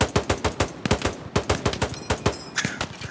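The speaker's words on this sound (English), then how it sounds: "let's demonstrate improper suppressive fire with a pair of semi-automatic rifles" Two semi-automatic rifles fire together in the shooter game Hell Let Loose, a loose, uneven stream of sharp, fairly close cracks that overlap irregularly for the whole stretch before briefly thinning out.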